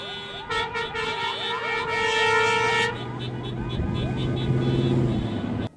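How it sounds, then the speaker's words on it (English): Car horns honk repeatedly during a vehicle parade through the streets of Bridgewater and Rainham, with overlapping toots and a wailing siren-like sweep, loud and close, ending abruptly. "Horns were honking through the streets of Bridgewater and Rainham this past Saturday."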